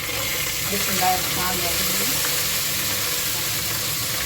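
Chopped onions, about a kilogram, drop into hot oil with browned garlic and cumin, giving a steady broadband frying sizzle that runs throughout, close and fairly loud, with faint background noise.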